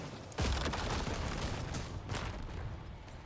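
Corpse Explosion blasts from a minion necromancer build in Diablo 4 go off as two muffled booms, one sharp burst followed by rumbling debris and a second, softer blast about two seconds later.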